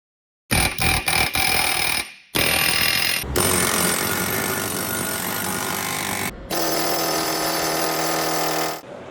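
A Mueller-Kueps air hammer on a trade show floor starts with a few sharp bursts, then hammers continuously in a loud, rapid, buzzing rattle, pausing briefly twice before stopping near the end.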